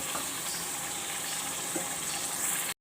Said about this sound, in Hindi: अब इसके अंदर ये मैं आधा कप पानी का डालूँगी